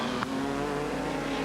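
A sport sedan race car at Pukekohe in 1988 rushes past on the track, a loud, close engine roar that holds briefly and then pulls away.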